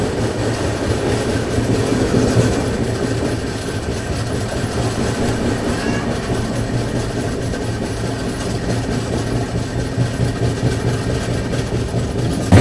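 Humsafar AC double decker express train crossing with a steady, loud rumble of rolling wheels and carriages sustained throughout, with no speech.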